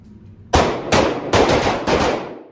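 A handgun is fired during draw practice from a holster: four loud, sharp shots close by, the first single, then the rest in quicker succession, with no talk.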